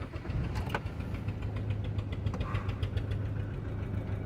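A Toyota Etios Liva diesel engine cranks, catches, and settles into a clattery, knocking idle heard close and steady, with a few sharp clicks early on.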